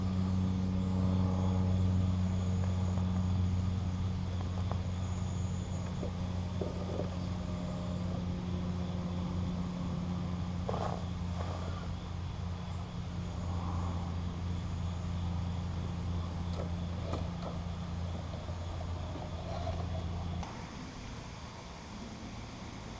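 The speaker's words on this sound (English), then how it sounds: "let's see if we can keep it steady coming down these rocks" Off-road vehicle with a light back end creeping down over rocks, its engine a low, steady droning hum with occasional knocks and scrapes, fading slightly near the end, no talking.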